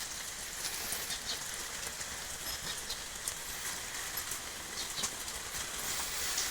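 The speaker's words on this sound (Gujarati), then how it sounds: "આ રીતનો ભાઈ વરસાદ વરે જરીક વાર આવે ને જરીક વાર વયો જાય" Steady rain falls on surfaces nearby on a farm in Gujarat, India, a constant hissing patter that stays even throughout.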